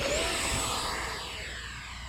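An Arrows Marlin RC jet screams past, its high turbine whine sweeping downward in pitch as it flies by and fades slightly over about two seconds, with no voices.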